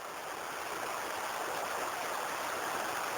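The Belichka river flows under a bridge in a steady, close, broadband rush of water, constant and unbroken, with no voices.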